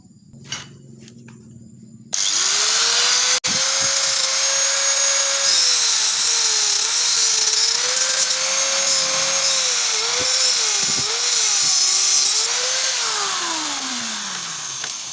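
A power tool, likely a grinder or drill, cuts away a weld on the magnet-cover gearbox casing of an old Honda Supra motorcycle; after a short quiet start it roars loud and steady, its pitch wavering under load before slowly winding down.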